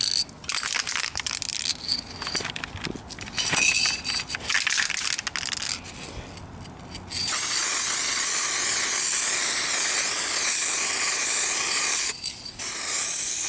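An aerosol can of Upol plastic adhesion promoter sprays onto a 2004 Kia Spectra rear bumper: sputtery, broken hissing bursts first, then a long, loud, steady hiss close by, briefly interrupted near the end.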